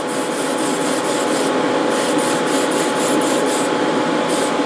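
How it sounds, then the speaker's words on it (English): Tamiya surface primer sprayed from a can onto model truck parts for a 1/14 Grand Hauler semi build in a spray booth, a steady loud hiss in rhythmic short bursts, close up with no talking. "lightly spray over the areas that are gunmetal that are now going to be blue"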